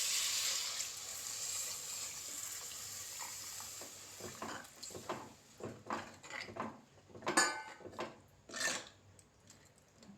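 Strained tamarind water poured into a pot of dry fish curry (karuvadu kuzhambu), a steady liquid splash and trickle that runs for several seconds, then breaks into louder intermittent splashes and clinks of a pot, close by.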